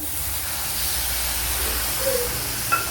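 Water poured into a pan of cauliflower cooking on the stove sets off a steady, close sizzling hiss that runs evenly throughout, with a few faint clinks near the end.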